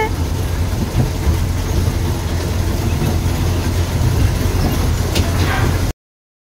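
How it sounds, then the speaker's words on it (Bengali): A ride-on toy train at Nicco Park amusement park rumbling along with continuous rattling and clacking noise, loud and close, then cutting off abruptly at the end. "মাম্মা এখন টয় ট্রেন চড়ছে"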